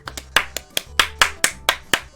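Short burst of applause in the video game Undertale, a close, crisp run of about nine evenly spaced hand claps with no voices.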